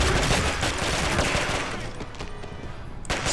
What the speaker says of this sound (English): Just destroying all of them with my silencer.